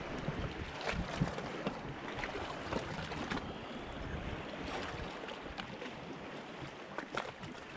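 Rough, choppy sea churns steadily at the shore, a dense, continuous wash of water mixed with wind buffeting the microphone, with no clear breaks between waves.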